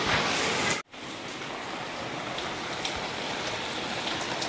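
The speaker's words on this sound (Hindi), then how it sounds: "आप देख सकते हैं तेज बारिश हो रही है" Heavy monsoon rain pours onto a street in Karachi, a dense, steady hiss that fills the whole clip with only a brief dropout near the start; no one speaks.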